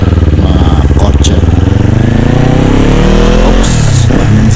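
Kawasaki Z400 motorcycle engine running loud and close at an Ace Cafe Barcelona bike and car meet, a steady throbbing idle that rises and swells into a rev near the end.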